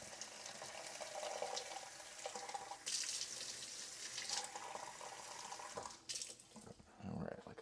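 A kitchen tap runs steadily into a sink while the water warms up, a continuous close splashing rush that shifts in tone now and then, with some faint background talk.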